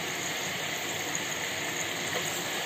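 Ginger, garlic and onion paste sizzles and hisses steadily in a hot pan while mutton biryani is prepared, a close, continuous frying sizzle with no talk.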